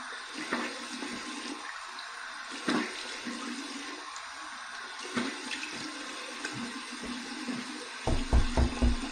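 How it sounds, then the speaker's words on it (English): Cold tap water runs steadily into a bathroom sink for a face rinse after a two-pass wet shave, with light splashing throughout and a few louder bursts of splashing near the end. "Cold water rinse."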